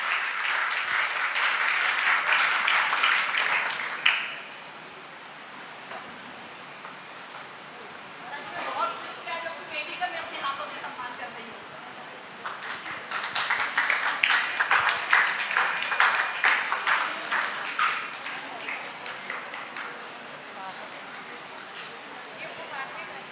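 Audience applause in a hall during a women's honour ceremony, two long bursts of dense clapping, loud at the start, then a quieter lull and a second strong wave that tapers off.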